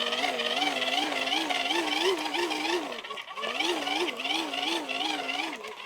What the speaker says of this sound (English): And here we go with the hand crank.